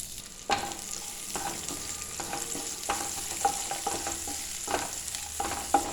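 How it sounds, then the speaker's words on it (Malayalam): Chopped small onions (shallots) sizzle in hot oil left from frying fish for Kerala-style fish perattu, with a steady bubbling hiss punctuated by repeated scrapes and stirs of a spoon in the pan. "ഇനി അതേ എണ്ണയിലേക്ക് തന്നെ നമുക്ക് കുറച്ച് ചെറിയ ഉള്ളി ചെറുതായിട്ട് അരിഞ്ഞ് ചേർത്ത്"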